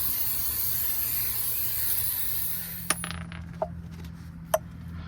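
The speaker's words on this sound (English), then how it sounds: "we're just going to hit the rotor with some brake clean." Brake cleaner sprayed onto a brake rotor during a front pad and rotor job on a 2014 Chevy Equinox, a steady close hiss for about three seconds, then stopping, followed by a few light metallic clicks.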